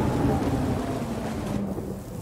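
Rain falling with low rumbling thunder in the Death Stranding video game, a steady loud downpour with a long roll of thunder underneath, no voices.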